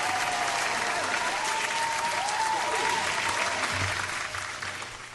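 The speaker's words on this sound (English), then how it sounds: "Let's give her a round of applause for sharing that story right there" Steady crowd applause, moderately distant and even in level, running continuously and fading slightly toward the end, with a faint tonal whine sweeping underneath.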